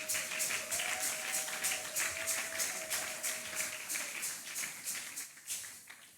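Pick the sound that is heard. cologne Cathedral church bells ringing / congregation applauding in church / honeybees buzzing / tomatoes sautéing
congregation applauding in church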